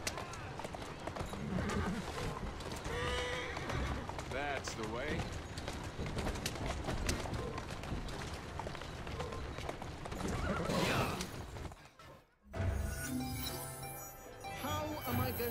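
Horse hooves clip-clopping with neighs and whinnies under a dense, busy soundtrack from Assassin's Creed Syndicate, a voice speaking briefly over it.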